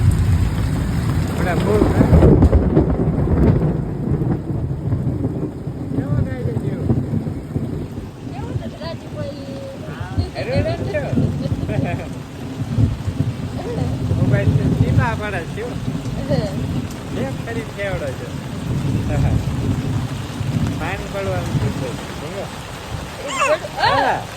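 Heavy first rain of the season in Botad village, a steady, close broadband hiss of rainfall and gusty wind that runs the whole way through, with people talking over it.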